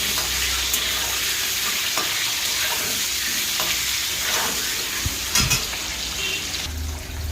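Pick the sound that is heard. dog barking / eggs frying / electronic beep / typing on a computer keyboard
eggs frying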